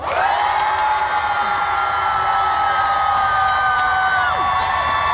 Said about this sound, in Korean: 여러분들께서 박수 함성을 한번 보내주시면 됩니다